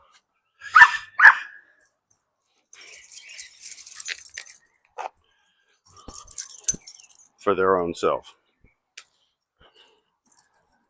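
A dog lets out a couple of sharp barks early on, then a drawn-out whimpering yelp later, at squirrels it has spotted, with keys jangling and someone speaking briefly in between.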